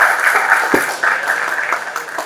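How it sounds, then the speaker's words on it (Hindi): A rally crowd claps to welcome a senior Congress youth leader in Jajpur, a short burst of steady applause at moderate distance. "आमे श्री संतोष बाबू को स्वागत करूछु, अभिनंदन करूछु करताली सहित।"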